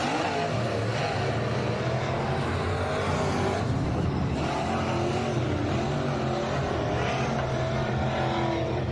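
Race cars roar around HOT Speedway in a steady, continuous engine drone with the pitch rising and falling as cars pass, loud and unbroken with crowd ambience beneath.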